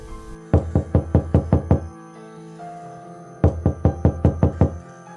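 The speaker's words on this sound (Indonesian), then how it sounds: "suara ketukan pintu itu kembali terdengar lagi" Two bursts of rapid knocking on a door, about seven sharp raps each, separated by a short pause, the second series as loud and insistent as the first, over a quiet musical background.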